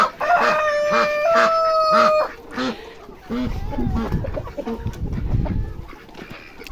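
Chickens and a rooster in a chicken coop: the rooster crows loudly and clearly at the start, then hens cluck and rustle nearby while a person talks.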